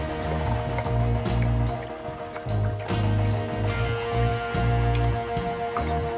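Liquid poured into an ATV part being repaired, gurgling and glugging in uneven pulses with a wet, hollow trickle, loud and close and without talk.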